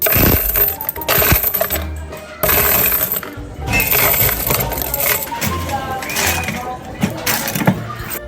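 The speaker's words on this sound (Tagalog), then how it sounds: "At dito nilagay ko na nga rin po pala yung mga barya." Coins clatter and drop into a pisonet coin changer being repaired, giving repeated metallic jingles and bursts of rattling across several seconds, with a few faint background noises.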